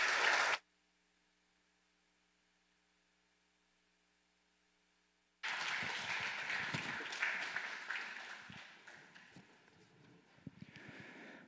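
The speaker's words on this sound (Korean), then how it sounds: "다시 한번 우리 인사할 때 우리 크게 박수해 주십시오." A church congregation claps loudly and steadily in a large hall after a quiet pause, the applause slowly fading toward the end.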